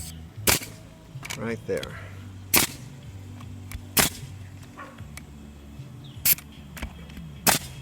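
Pneumatic nail gun driving nails into a roof skylight during removal work: sharp, loud single shots at irregular intervals, about seven in all, with brief speech between them.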